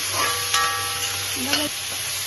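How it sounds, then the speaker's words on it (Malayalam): Green chilli and tomato sauté in ghee in a pan for an okra curry with a steady close sizzle, while faint background voices and a brief tonal sound come through the frying. "അടുത്ത് നമുക്ക് വഴറ്റി കൊടുക്കാം പച്ചമുളക് ഇടാം തക്കാളി ഇടാം"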